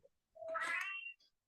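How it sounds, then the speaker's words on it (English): A house cat lets out a single drawn-out meow, rising in pitch and lasting about a second, fairly close and alone in an otherwise quiet room. "That was my cat irritating me."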